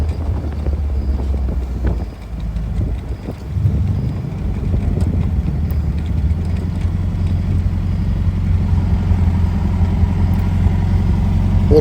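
A 1986 London Roadster MG TD replica car cruising down the road, its engine a steady low drone with heavy wind rush across the microphone, continuous and fairly loud with no talking.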